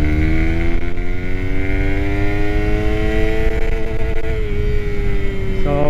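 A Suzuki Raider 150 Fi motorcycle with a ported Stage 1 head climbs steadily in second gear, its engine note rising loud and close until it holds against the rev limiter near the end.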